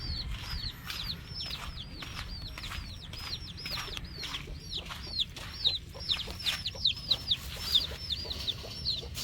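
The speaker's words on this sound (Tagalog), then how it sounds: "So ito guys yung mga sisiw nila ng dalawa kong pair." Backyard chicks peep in a rapid stream of high chirps over occasional clucks from adult chickens, with some rustling and flapping, close by and moderately loud.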